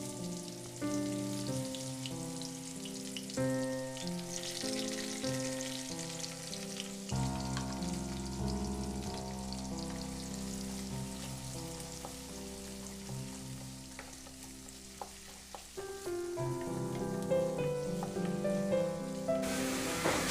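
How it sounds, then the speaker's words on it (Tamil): Finely chopped small onions fry in a pan for an egg curry, a steady continuous sizzle running beneath louder background music with no talking. "இப்போ வெங்காயம் வந்து நமக்கு நல்லா வதங்கிடுச்சு"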